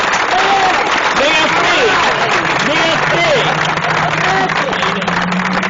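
Steady, loud applause from an audience at a community project recognition event fills the clip, with voices calling and talking throughout.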